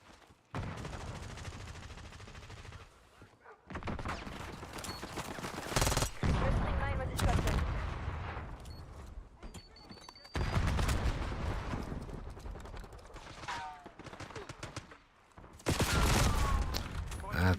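Rapid automatic gunfire from a multiplayer shooter video game, loud bursts of fire coming in several sustained stretches with short gaps between them, mixed with game effects and occasional voice chatter.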